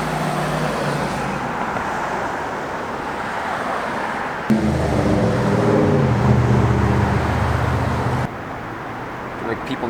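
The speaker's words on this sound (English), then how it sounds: "Lots of traffic going through here." Steady road traffic rolls past a busy street, a continuous roar of cars with a heavier vehicle rumbling by in the middle; a voice speaks over part of it.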